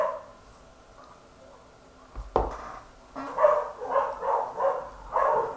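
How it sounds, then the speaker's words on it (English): A dog barks in a quiet indoor room, a handful of rhythmic, moderately loud barks coming in quick succession after a single sharp thud. "And the dogs agrees."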